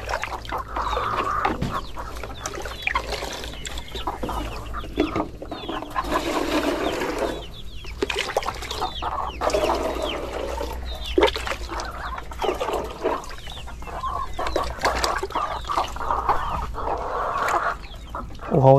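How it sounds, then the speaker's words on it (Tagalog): A flock of backyard chickens clucks and calls continuously, with overlapping nearby hens and a steady farmyard background running throughout. "Uhaw na rin tong mga manok ko na to"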